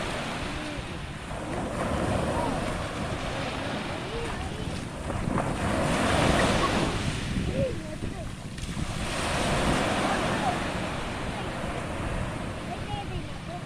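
Rough sea waves wash onto a beach in a continuous loud roar, rising and falling in surges, with wind buffeting the microphone.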